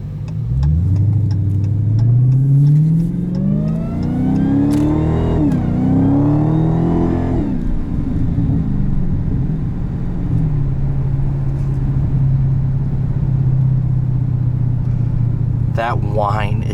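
A 2016 Dodge Challenger Hellcat with an automatic gearbox accelerates, its supercharger whine rising in pitch over the engine note through repeated gear climbs before easing into a steady cruise, heard from inside the car.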